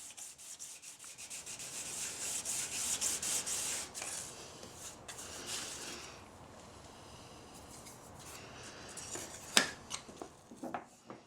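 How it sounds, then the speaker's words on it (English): A card scraper is honed on both sides with a series of soft, close metallic rubbing strokes, followed by a few sharper scrapes and clicks near the end. "Hone both sides of the card scraper so that we can prepare a burr on either side of the edge."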